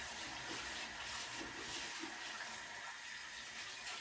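Bulgur being rinsed with water in a kitchen, a soft, continuous running and splashing water sound at low level, steady throughout with no talk.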